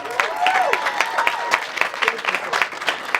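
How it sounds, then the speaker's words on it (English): A crowd at an outdoor community celebration for an anti-racism mural applauds its project manager, dense clapping and scattered cheers running steadily throughout, with a few shouted voices rising above it. "please give me a big round of applause for our project manager, Mr. Cordelis"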